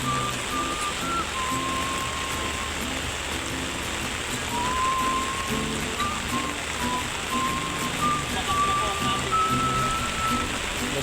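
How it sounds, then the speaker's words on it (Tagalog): Hard rain drums continuously on a surface by the sea at high tide, loud and unbroken, with a thin whistling tone wandering faintly over the downpour. "malakas na ang ulan"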